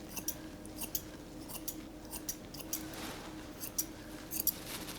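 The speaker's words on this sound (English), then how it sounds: "I'm gonna use my bull-pointed curved scissors." Ball-pointed curved grooming scissors snip along a doodle dog's ear in quick, faint, close crisp cuts, steady and irregular, with a low hum beneath and no talking.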